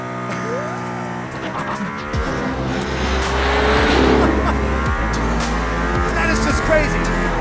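A Mercedes-AMG ONE hypercar accelerates hard on a Barcelona circuit, its engine note climbing through rising gear sweeps as it pulls away, heard loud from inside the car along with occupants' voices.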